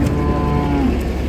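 A calf at a livestock market in Füzuli lets out one drawn-out moo, loud and close, over a busy market background.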